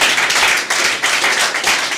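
Congregation at a Sunday church service clapping to acclaim the Lord, a steady rhythmic clap from many hands, loud and close, with the beats pulsing in even waves throughout.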